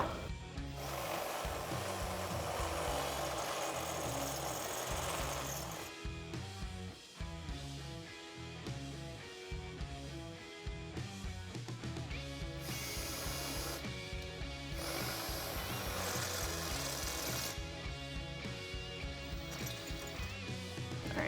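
A step drill bit bores into metal during a Jeep Wrangler JL suspension lift install, grinding and whirring in long close bursts with short pauses between passes, with no talk.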